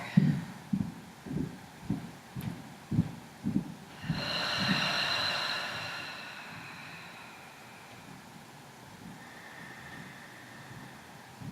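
Slow, steady breathing during a yoga asana practice, a run of soft rhythmic breaths followed by a long drawn-out exhale, close and quiet with faint background hiss.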